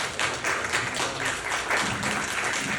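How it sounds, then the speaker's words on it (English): A church congregation at an annual meeting award ceremony gives a brief, even round of clapping for a deacon, with many hands at moderate loudness. "I'd like to give a round of applause to our Deacon Bob"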